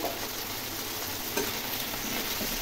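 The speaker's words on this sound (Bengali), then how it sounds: "চিংড়ি মাছগুলো এপিট ওপিট করে লাল করে ভেজে নিচ্ছি" Loud, continuous sizzling of shrimp coated in salt and turmeric frying in hot oil, with occasional stirring scrapes and no talking.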